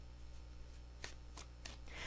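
Tarot cards are shuffled by hand, three short riffling bursts spaced evenly and heard up close against a low background hum.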